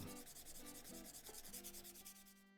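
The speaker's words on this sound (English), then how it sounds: "This is a bit of 240 grit just to take any tooling marks out or anything weird, any scratches." Strokes of 240 grit sandpaper sanding a turned acoustic guitar saddle, a steady rhythmic rubbing and scraping close up, repeating back and forth throughout.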